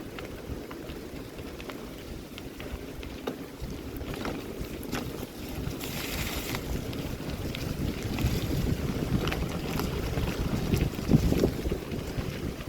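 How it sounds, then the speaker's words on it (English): Wind gusts and buffets the microphone during a cold mountain bike ride on a forest loop trail, a steady low rumble that grows stronger and louder toward the end, with no talking. "Cold and windy."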